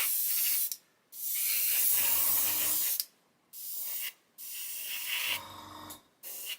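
Aerosol matte clear coat sprayed onto a 1/35 scale Ju87 Stuka model in several long, close hissing bursts separated by short pauses.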